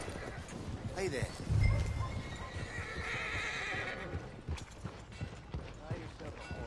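A horse in Red Dead Redemption 2 gives a loud whinny, and its hooves clip-clop steadily on the ground beneath it, close by. Someone speaks briefly over the hoofbeats.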